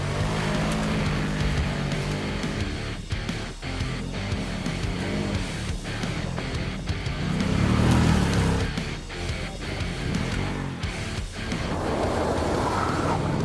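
A Can-Am Commander side-by-side drives off-road over mud holes and rocks, its engine a steady, loud drone with rumbling swells and bumps, no voices.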